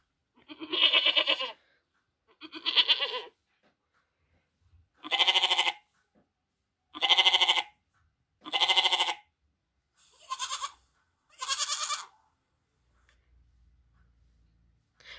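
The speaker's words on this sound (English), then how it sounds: "This is a goat." A goat bleats seven times in separate calls spaced a second or two apart, clear and close, with quiet gaps between them.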